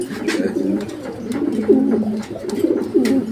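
Lahore breed pigeons cooing at a farm, a steady run of low, rolling coos that overlap and repeat throughout, close and fairly loud with no talking.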